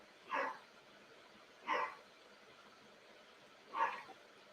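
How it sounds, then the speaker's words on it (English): A dog barks three times in a moderately distant setting, single sharp barks spaced about a second and a half apart, then two seconds apart, over a quiet indoor background with no talking. "I apologize for the barking."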